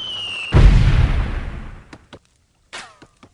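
Artillery fire-mission explosion in the PC video game Delta Force 2: one loud deep boom that rumbles and fades over about a second, followed by a few sharp distant cracks and a small burst.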